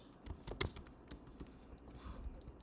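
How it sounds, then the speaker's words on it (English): Typing on a computer keyboard while writing code, soft close clicks and taps in a quick irregular flurry over a faint room hiss. "So I'm gonna type util get users,"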